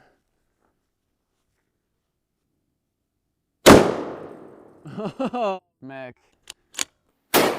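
Real gunshots are fired at a Lego Panzer tank: one sharp, loud report rings out and decays, followed by brief speech and a few more short sharp impacts. The opening seconds are silent.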